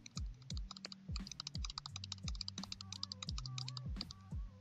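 Rapid computer keyboard and mouse clicks tapping away in irregular bursts, close up, while playing Roblox Mining Simulator, with a low game soundtrack humming underneath.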